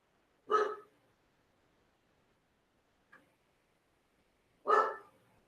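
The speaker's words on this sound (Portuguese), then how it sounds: "Daqui a pouco a minha cachorrinha vai fazer uma pergunta do jeito que ela tá latindo hoje." Two sharp barks from a small female dog about four seconds apart, with a faint click between them, in an otherwise quiet room with no talking.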